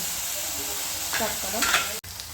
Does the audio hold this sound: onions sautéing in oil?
yes